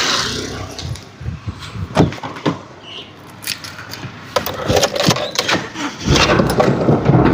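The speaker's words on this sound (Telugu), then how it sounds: "ఫస్ట్ అయితే నేను ఇంజన్ స్టార్ట్ చేసి మరి నేను చెప్తాను, చూసుకోవచ్చు మీరు" A Honda Mobilio diesel car engine cranks with a few clattering bursts, then catches and settles into a loud, rough idle rumbling close by.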